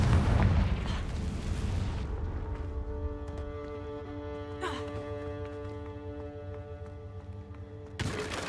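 A Confringo blasting spell explodes in the Hogwarts Legacy video game, opening with a loud rumbling boom that decays into a long ringing, tonal tail with scattered crackles, and a second burst arrives near the end.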